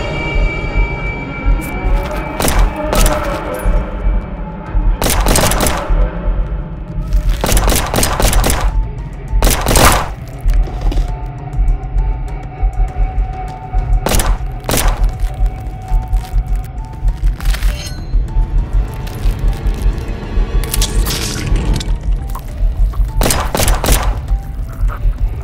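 Repeated bursts of gunfire ring out in a Blender-made Five Nights at Freddy's animation, sharp loud volleys spaced across the scene over a steady low rumble of background sound.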